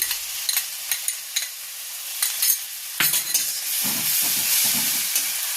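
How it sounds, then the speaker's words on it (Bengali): Two spoons of ginger-garlic paste frying in hot oil with onion for a home-style duck egg curry. Spatula clinks and scrapes against the pan in a loose rhythm, then a loud, steady sizzle with stirring takes over. "2 চামচ আদা রসুনের পেস্ট দিয়ে দিচ্ছি।"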